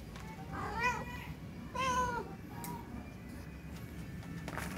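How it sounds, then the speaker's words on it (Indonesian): Two soft meows from a cat about a second apart, over a steady background hum, followed by faint rustling. "Ini meong Malkis namanya."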